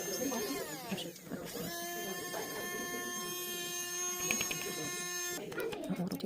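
A small electric mini grinder chops up foils, giving a steady high whine that runs close and fairly loud with shifting pitch as it bites into the material, while a voice talks at times.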